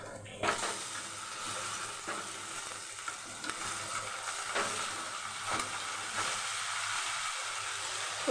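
Niramish doi potol, a vegetarian pointed-gourd curry with yogurt, bubbles and sizzles in a pan on full flame, a continuous close hiss with occasional stirring scrapes.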